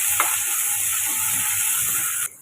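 Tomatoes and ground masala sautéing in a pan for egg curry, a steady, loud sizzle with light stirring that runs without a break and then cuts off abruptly.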